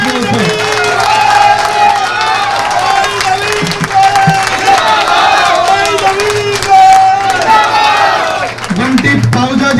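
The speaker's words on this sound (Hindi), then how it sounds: "ताली कम है, ताली ज्यादा बजाओ इस बात के ऊपर।" An audience claps and cheers loudly and continuously at a political gathering in Gurugram, a dense crowd roar with applause filling the whole clip.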